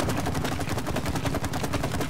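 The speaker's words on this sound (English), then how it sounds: "This gas and fire combine. Explosion." Gas and fire combine into an explosion in the video game It Takes Two, heard as a loud, dense burst of rapid crackling blasts that rolls on without a break.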